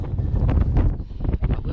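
Wind buffets the microphone in heavy, uneven gusts on a wet, foggy day at the start of a climb up Lliwedd, a loud rumbling roar that rises and dips throughout.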